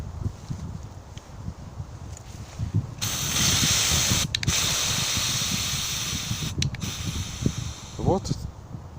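Aerosol can of Antizver repellent sprayed outdoors in strong wind, a loud sustained hiss starting partway through and running several seconds with brief interruptions, over wind noise and a voice speaking.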